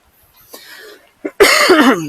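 A sharp, close cough, then a longer, rough throat-clearing rasp.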